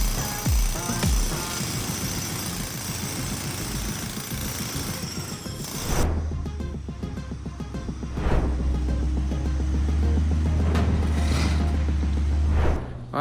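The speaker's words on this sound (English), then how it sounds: "This is the day of chipping out the pool" Jackhammers chip old plaster out of a drained backyard pool during a remodel, a loud continuous rapid hammering rattle with a deeper engine-like drone joining partway through, close and unbroken throughout.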